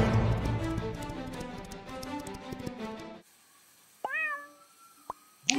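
A cartoon lion cub gives a few short, high kitten-like meows, heard alone after dense music fades into quiet, with a sharp cry near the end.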